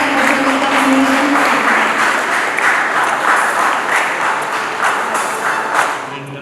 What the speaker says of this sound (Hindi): मैं सभी से जोरदार तालियों से उनका अनुमोदन